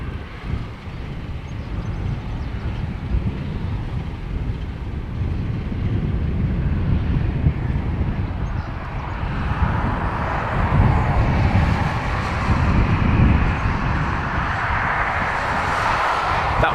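A United airliner, flight in from Newark, roars in to land at Dublin Airport, its broad engine rumble swelling steadily and staying loud and close throughout amid wind buffeting on the microphone.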